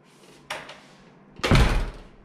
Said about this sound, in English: Let me go back just to close the door.